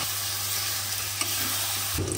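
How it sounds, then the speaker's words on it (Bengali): Chicken meat sizzles steadily in a pan while being stirred, a continuous close frying hiss with a scrape partway through and a louder burst near the end. "তারপরে মুরগি গোশতটা ঢেলে দিব।"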